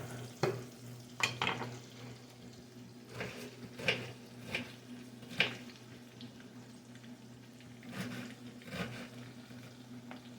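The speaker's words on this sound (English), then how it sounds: "You want to brown this onion. You want it to be clear." Quiet sizzling of onion frying in a pan, with occasional scraping and stirring clicks over a low steady hum.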